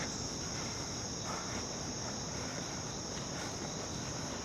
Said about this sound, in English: still surrounded by crickets, cicada sounds